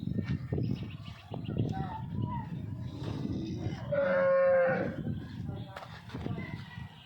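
A freshly calved cow moos once in a long, loud low call amid steady background chatter of people talking nearby, in a village in Faridkot district.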